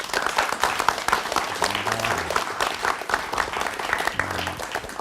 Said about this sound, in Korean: 다시 한번 우리 김윤종 이사장님께 큰 박수 부탁드립니다.